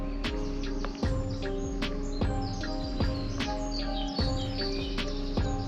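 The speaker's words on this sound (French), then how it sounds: "T'entends les petits oiseaux" Small birds chirp and sing beside a stream in the grounds of an abandoned château, their quick high calls scattered across steady layered background sound, near and moderately loud.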